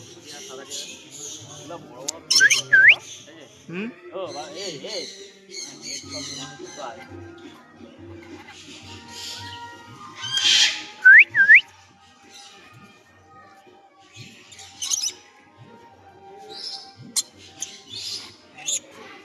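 A red lory parrot gives several sharp, shrill squawks at irregular intervals, with softer chirps between and people talking in the background.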